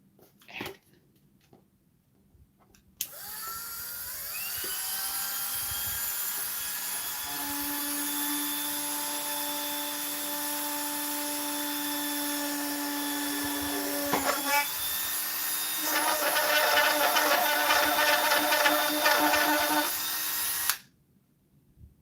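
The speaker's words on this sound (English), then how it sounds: "I think I know where I need to drill." A power drill bores into wood for a gun rack, its motor spinning up to a loud, sustained whine that holds for about eighteen seconds, turns rougher and grittier near the end, then cuts off abruptly.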